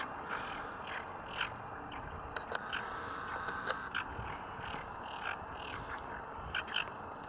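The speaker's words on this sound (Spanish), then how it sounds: "hay gran cantidad de ranas y están todas como locas" A chorus of frogs croaks continuously in a naturalized pond, many overlapping calls in a busy, steady rhythm, with a few louder croaks standing out nearby.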